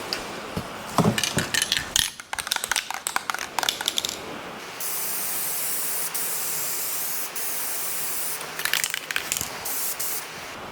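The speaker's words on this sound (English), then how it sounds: "That way when you spray it doesn't glob on you on a nice even pattern." An aerosol can of paint sprays a restored Chevrolet Nova dash with rapid rattling clicks and short bursts, then a long steady hiss, followed by more brief spurts near the end.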